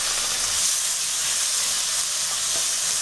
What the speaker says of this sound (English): so I'm going to put on that onion.